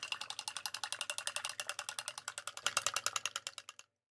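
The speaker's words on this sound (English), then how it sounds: "Then start to beat the eggs really hard" Eggs with salt and chopped white onion are beaten hard in a bowl. Fast, even clicks run in a steady rhythm for almost four seconds, loud and close, with no talking, then stop abruptly.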